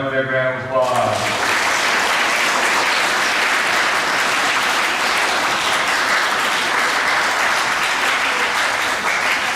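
A school awards assembly audience breaks into loud, sustained applause after honoree names are read, a dense, steady roar of clapping that fills the room from start to finish.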